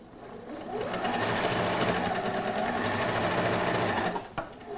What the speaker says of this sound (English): So I'm going to stitch all the way round.